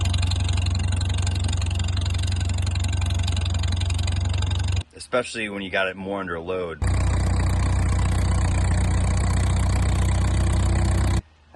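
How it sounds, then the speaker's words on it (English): A 1951 Farmall M tractor engine with low compression runs steadily and loudly, with a brief gap where someone talks before the engine noise resumes. "the tractor actually ran quite well for having such low compression"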